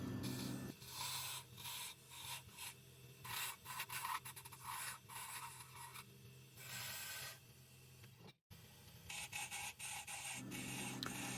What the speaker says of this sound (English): And I use my mini lathe to do this.